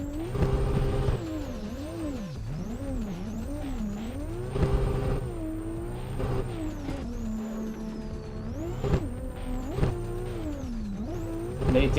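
Car engine in the racing game Assetto Corsa revving and dropping through downshifts during a Tokyo drift run, pitch swinging up and down with loud exhaust and tire noise throughout.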